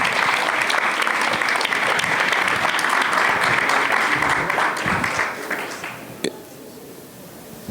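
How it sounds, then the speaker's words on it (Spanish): A live audience bursts into sustained, loud applause at a Tijuana entrepreneurship event honoring the founders of a 13-year-old brewery, with dense clapping that thins and fades out over the final seconds. "Un aplauso, por favor."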